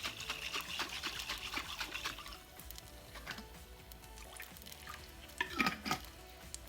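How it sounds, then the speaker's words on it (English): Water trickles and splashes as it is poured from a spaghetti sauce bottle into a pan, a faint, uneven dribbling with a few small spatters toward the end. "I'm going to add a little water in here"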